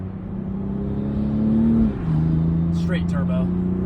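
A car fitted with a cheap aftermarket Alibaba exhaust revs once, the note rising then dropping back to a steady idle, with voices talking over it near the end.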